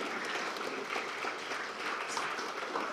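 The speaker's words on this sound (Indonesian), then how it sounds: "Ya, kita beri tepuk tangan." A ceremony audience applauds in a continuous, fairly faint wash of clapping that sounds somewhat distant. No voices rise above it.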